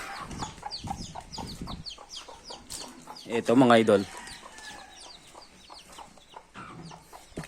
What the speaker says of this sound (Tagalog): Puntahan natin yung mga ibang manok niya.